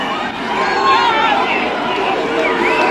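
A large protest crowd at a freedom rally in Melbourne surging past police lines: dense, continuous chatter and shouting voices forming a loud, close hubbub throughout.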